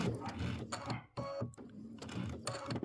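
A sewing machine stitches quilt fabric for a Christmas wall hanging, running in close, loud mechanical bursts with brief pauses between them.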